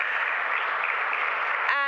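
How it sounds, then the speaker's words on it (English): Audience applause for panelists at a clean cooking forum closing plenary, a steady wash of clapping that runs throughout at an even level. "Another round of applause for our panelists."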